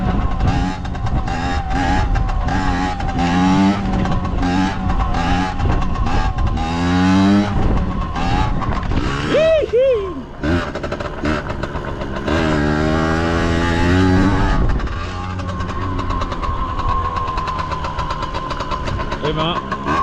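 A Chinese copy of a Piwi 80 motorbike runs with a loud, buzzy small engine that revs up and down repeatedly, rising and falling in pitch. Voices talk over it at points.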